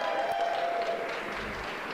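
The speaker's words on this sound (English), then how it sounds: "Let's give him a round of applause" An audience at a keynote talk applauds in a steady wash of clapping, fairly loud and even throughout with no talking over it.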